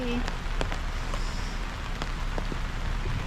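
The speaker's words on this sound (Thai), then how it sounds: "มาก็เจอฝนอยู่ดีที่นวนา" Steady rain falling at Na-Wana campsite in Chaom, Saraburi, Thailand, a dense continuous patter on surfaces with occasional louder individual drops, fairly faint and close around.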